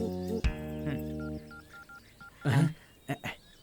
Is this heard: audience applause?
no